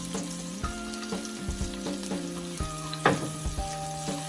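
Garlic hits a hot pan and sizzles steadily as it fries for a creamy garlic sauce, with a few close utensil clinks and scrapes over the bright crackling.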